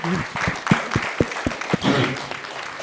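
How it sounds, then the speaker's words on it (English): An audience applauds a panel at a civic engagement event. The clapping is close and irregular, runs for about three seconds and comes through with voices and chatter mixed in. "Let's do a big round of applause for our panel."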